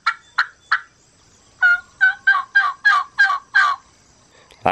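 Excited yelping of a turkey hen played from a phone app, three spaced yelps and then a quick run of seven loud, close notes, with no voices.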